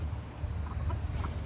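Chickens clucking softly near a coop, a few low, quiet calls over steady outdoor background noise.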